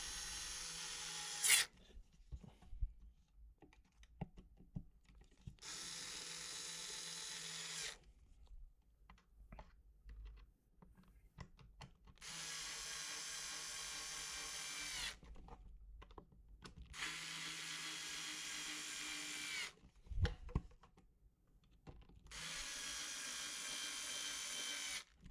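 Screws are driven into a Dyson V10/V11 cyclone in a crisscross pattern, heard as four loud bursts of high-pitched power-driver whirring separated by quieter pauses with small clicks and handling noises, with no speech.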